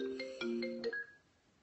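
A phone rings with an incoming call, a short synthetic ringtone of quick stepped tones that ends on a single sustained note and then cuts off, close and clear with no talking.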